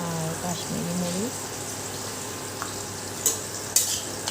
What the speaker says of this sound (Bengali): আর এদিকে দেখো মশলাটা একটু কষানি হয়ে গেছে গা